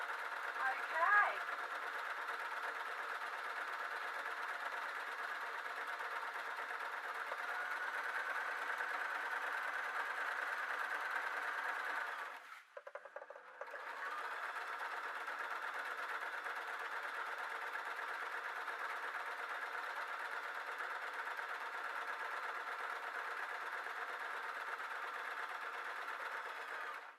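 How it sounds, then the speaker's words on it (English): A sewing machine stitches the seam of a cross-over blouse with a steady, even mechanical whir. It stops briefly about halfway through, then resumes at the same constant pace. "I can get rid of this sewing machine and get my overlocker"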